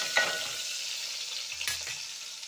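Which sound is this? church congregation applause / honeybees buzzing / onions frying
onions frying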